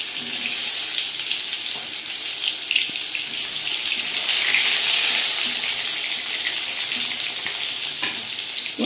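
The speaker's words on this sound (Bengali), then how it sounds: "এবার পটলগুলোকে একে একে ভেজে নেব" Pointed gourds (potol) frying in hot oil in a wok, a steady, close hiss of sizzling fat that runs without pause, with faint stirring clatter and no voices.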